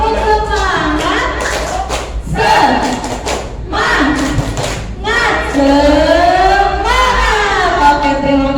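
An audience at a teacher-training gathering performs a rhythmic spirit clap, loud patterned claps and thumps alternating with voices chanting together in short bursts.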